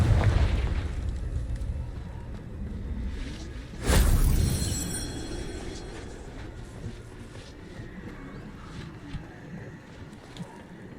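A Confringo fire spell explodes in Hogwarts Legacy, a single loud, sharp blast near four seconds with a rumbling tail, set against a low ambient game soundscape.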